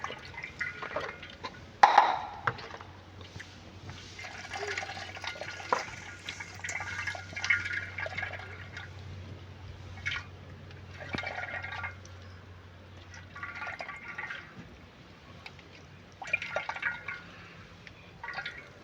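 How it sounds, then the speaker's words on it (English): Grated coconut milk is sieved slowly for coconut rice, with liquid trickling and dripping in irregular close splashes and a faint steady hum under much of it. "I sieve my coconut. I sieve slowly by slowly,"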